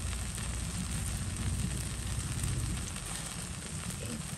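Spices fry in hot mustard oil in a pan with a steady, dense sizzle and crackle that holds at an even level throughout, close by, with no talk.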